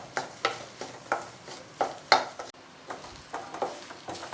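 A spoon scrapes through potato masala filling for Malabar bonda in a pan. The strokes come in a regular rhythm about three times a second, faint and close, with a light sizzle beneath and no talk.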